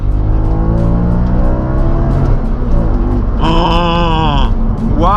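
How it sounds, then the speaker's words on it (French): Audi RS4 V8 with 420 hp, exhaust valves opened in S mode, roaring loudly as it accelerates, the engine note climbing through rising revs with a sharp upward sweep near the end, heard up close from inside. "je mets le mode, j'active le mode S, donc ça va ouvrir les gaz d'échappement"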